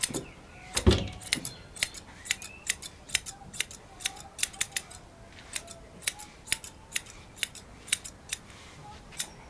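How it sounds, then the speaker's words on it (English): Grooming scissors trim the loose ends of a Bouvier des Flandres dog's coat, giving a steady series of sharp, close snips at roughly regular intervals, plus a louder handling knock near the start. "trimming down smoothly all the loose ends that stick out"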